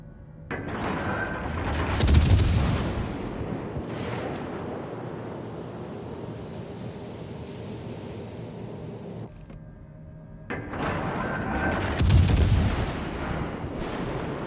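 Warship main guns firing armor-piercing shells in World of Warships Legends, two heavy booming salvos about ten seconds apart, each with a deep rumbling tail fading into ambient battle noise.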